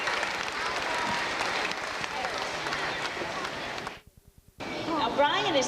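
Audience applause at a 1992 children's pageant in Jensen Beach, a dense sustained clapping from a crowd that cuts off abruptly near the end, then resumes with voices and crowd chatter.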